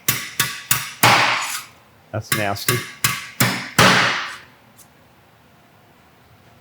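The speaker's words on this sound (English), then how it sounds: "We'll grab one of them long drill bits that we run down through there and knock them out." A hammer drives a long drill bit down through an engine block to knock out the galley plugs, about a dozen sharp, ringing metal strikes in quick bursts with a short pause midway, close and loud, then a brief voice at the end.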